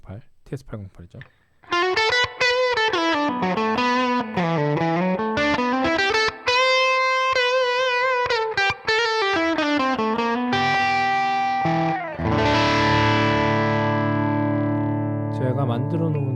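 An electric guitar played through a green TS808 Tube Screamer overdrive sound on a Quad Cortex rings out with bending, sliding lead notes and then a sustained, gritty chord, loud and up close.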